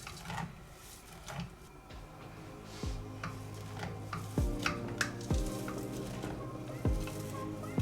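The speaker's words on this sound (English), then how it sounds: "when you stir it like this, when it starts melting, it doesn't clog up as much and it's easier to work with" Melting candle wax being stirred in a pot on a gas stove: soft sizzling and faint scraping, punctuated by several sharp metallic clinks of the utensil against the pot, fairly quiet and close.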